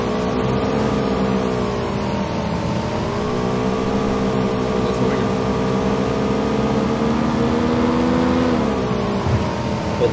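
A boat engine in PUBG drones steadily and loudly, a constant motor hum with slight shifts in pitch as it revs, continuing without a break.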